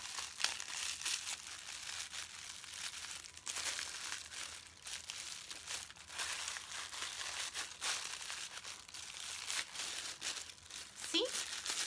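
Tissue paper crinkles and rustles near the mic as loose-leaf tea is packed into a small baggie, with repeated papery crackling bursts running through the whole stretch.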